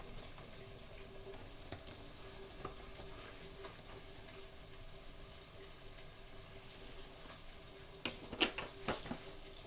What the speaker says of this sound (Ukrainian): зараз будемо жарити, як риба пожариться